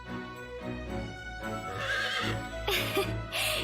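A horse in the video game Fire Emblem Warriors: Three Hopes gives a loud, drawn-out whinny that rises into a second shrill burst, clear and close with soft hoof clops beneath.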